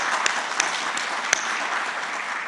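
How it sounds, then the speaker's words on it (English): A media forum audience keeps up a steady wash of applause, with a few sharper individual claps standing out over the even, continuous clapping. "I think that deserves a round of applause."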